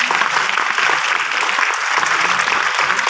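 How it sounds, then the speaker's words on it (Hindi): Audience applause in a hall during a Hindi motivational talk, a dense, steady wash of many hands clapping at close range for the whole moment, with no voices over it. "एक बार ताली होनी चाहिए।"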